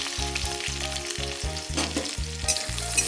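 Garlic, onion and green chili frying in a pan crackle with a bright, close sizzle, accompanied by a pulsing low tonal hum that starts and stops in short bursts.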